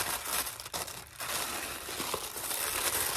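Wrapping paper around a pair of wedding shoes crinkles and rustles close up, a dense, continuous papery crackle with no voices.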